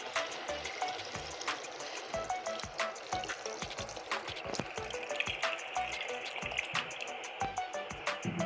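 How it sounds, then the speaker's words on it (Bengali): Water poured into simmering potato and rohu fish curry in a pan after the spices are fried, a steady close liquid trickle and bubbling with a broadband wash, no talk. "এবার আমি পরিমাণ মতো জল দিয়ে দিচ্ছি।"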